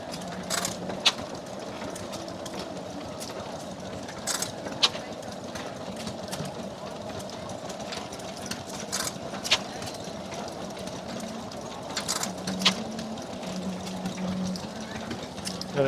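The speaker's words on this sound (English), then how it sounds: "Another nice Tangy engine on display here" A Tangye stationary engine runs steadily at a vintage engine rally, driving a small centrifugal water pump, with a continuous even chugging drone and occasional clicks, while someone talks over it at moderate distance.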